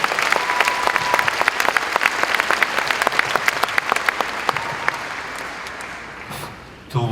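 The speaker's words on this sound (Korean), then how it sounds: "뜨겁게 박수로 환영하시기 바랍니다." Loud, sustained audience applause at a missions conference welcoming a missionary to the stage, dense clapping that carries through nearly to the end before fading, with no talking over it.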